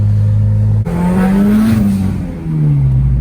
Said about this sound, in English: So we're going for another cruise now in the Integra